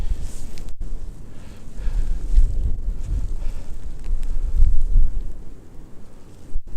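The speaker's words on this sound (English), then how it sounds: "A little bit windy." Steady wind buffets the microphone on the Pinchot Trail System North Loop near Painter Creek, a low, rumbling roar that swells and fades in gusts, with no voices over it.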